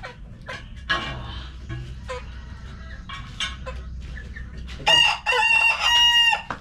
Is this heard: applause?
no